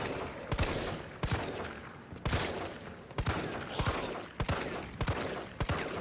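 Single gunshots in Resident Evil 3 on PS4 Pro, sharp reports spaced roughly every half second to a second, each with a short echoing tail, loud and close with no talk.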